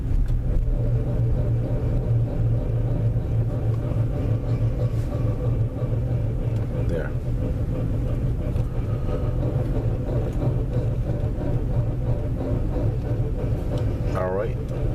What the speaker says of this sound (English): That is the sound. Of a bad wheel bearing.